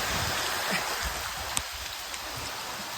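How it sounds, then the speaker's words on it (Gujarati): Heavy rain pours steadily outside a village home, a dense, close hiss of drops on surfaces that runs unbroken throughout with no voices. "ફૂલ વરસાદ પડે છે અત્યારે"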